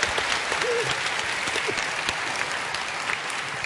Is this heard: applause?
yes